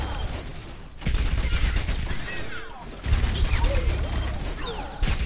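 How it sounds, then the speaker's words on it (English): Bastion's weapon in the video game Overwatch firing in sustained bursts, loud and dense, with mechanical clatter and sharp impacts over a continuous noisy wash. "switching your modes and firing at least 4 bullets in the next mode will"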